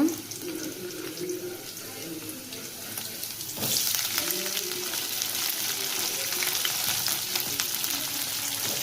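Sliced ridge gourd and green chillies tipped into a hot pan, with a sudden louder burst of sizzling and frying partway through that continues steadily, close and fairly loud.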